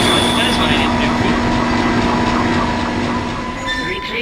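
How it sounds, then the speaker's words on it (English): A damaged tram car in the Dead Space video game drones and rumbles continuously with a low mechanical hum and faint metallic squeal, steady and loud throughout, with a voice speaking over it. "Damaged tram car. Please stand by. I don't like the sound that makes."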